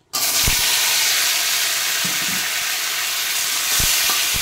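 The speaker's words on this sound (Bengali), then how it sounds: "1 মিনিট নেড়ে চেড়ে ভেজে নেব" Potatoes and tomatoes frying with whole spices such as cloves, black pepper, bay leaf and cumin, a loud continuous hiss and sizzle close up with a few soft stirring knocks.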